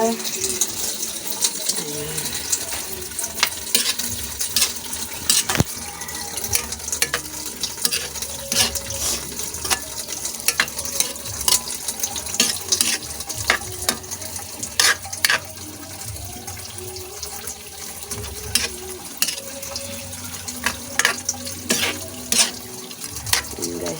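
Water is poured into a pan of chicken in tomato sauce, making a running splash with scattered clinks and scrapes of cookware, and a voice talks at times.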